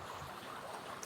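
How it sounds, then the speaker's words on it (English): A pool waterfall at a home runs continuously, a soft, even splashing wash of falling water that stays faint and steady. "Has a beautiful waterfall on it."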